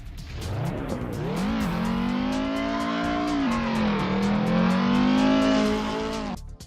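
Modded Ford race car in Assetto Corsa, revving loud and close, its engine note climbing steadily and holding high through continuous acceleration, with rapid gear-shift blips punctuating the drone before it cuts off.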